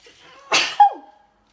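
One loud, sudden sneeze, followed by a short voiced exhale that trails off into silence.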